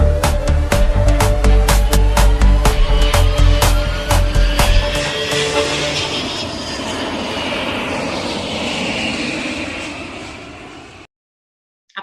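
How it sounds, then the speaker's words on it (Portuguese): Airliner taking off from runway 28 at Guarulhos, heard from inside as a loud, rising engine roar with rhythmic thumps from the runway that fade into a steady climbing drone before cutting off. "Autorizada a decolagem, pista 28."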